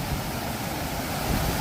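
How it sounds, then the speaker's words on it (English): A park waterfall in Chicago's Lakeshore East neighborhood sends up a loud, steady, broadband rush of falling water, heard close and unbroken with no talk over it. "And there's the waterfall."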